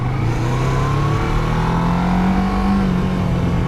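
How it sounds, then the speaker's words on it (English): A motorcycle engine running and revving up close, a continuous loud drone with a slowly rising then easing pitch, heard alone with no talk. "A motorcycle."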